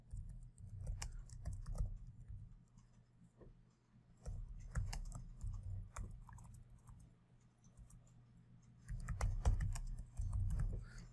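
Typing on a computer keyboard, quick bursts of soft key clicks in an uneven rhythm with brief pauses, close and faint, no voices.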